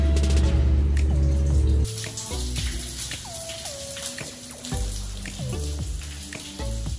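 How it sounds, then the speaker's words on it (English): Shower water running in a campground washroom in Patagonia, a steady splashing hiss with scattered drips and clatter, close and continuous with no talking. "once I turn on the shower and we'll see how clean it is"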